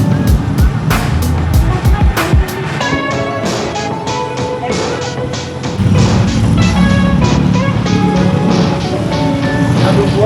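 Busy traffic on the outskirts of a town in Rwanda near Kigali: engines droning and vehicles passing close, with horn-like tonal bursts and a rumble rising partway through.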